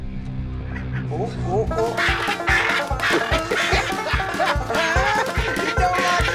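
A pet bird honks and squawks in loud, repeated bursts at close range, mixed with a person's short exclamations.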